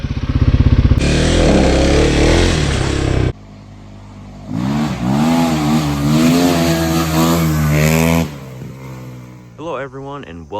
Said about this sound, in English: I am with Dad's 2026 Kawasaki KLX300